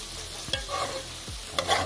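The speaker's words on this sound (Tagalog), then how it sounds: "Halo-halo lang natin kasi mayroon yung sibuyas, bawang at saluya at ano, hindi hinalo." Onion, garlic and ginger are stirred in a hot pan, a steady sizzle broken by two quick scraping strokes of the spoon, close up and without speech.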